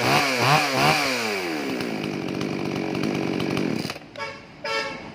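Used chainsaw, a secondhand saw offered for home use, revving loud and close with rising and falling engine pitch, settling into a rough idle before sputtering down and briefly revving again.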